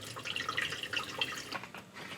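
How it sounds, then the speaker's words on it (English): Raw water trickles and drips into a reverse osmosis drinking water filter system after a needle valve is opened, a soft, close, steady flow with small irregular splashes. "open the needle valve counterclockwise so that raw water enters the system."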